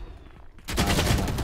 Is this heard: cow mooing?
no